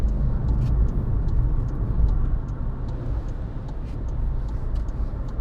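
A 2016 Skoda Fabia 1.4 TDI Monte Carlo diesel hatchback accelerates, a steady low engine drone with road rumble heard from inside the cabin, accompanied by faint ticking.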